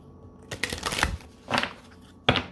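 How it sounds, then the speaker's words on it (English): Oracle cards being shuffled by hand, several quick riffling bursts close by with short pauses between them. "One more shuffle."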